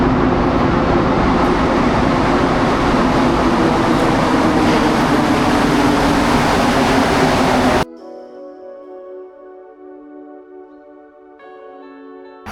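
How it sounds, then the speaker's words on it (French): A Montreal metro train arrives with a loud, dense roar and rumble for about eight seconds. The noise then drops to a quieter hum with high whining tones as the train slows and comes to a stop. "Nous voilà dans le métro"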